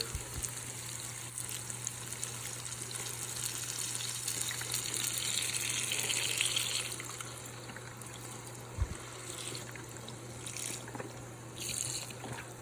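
Chicken broth poured into a cooking pot, a soft continuous gushing pour over a steady low hum, easing off partway through, with a faint knock and small sounds after.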